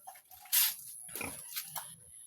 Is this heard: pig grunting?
yes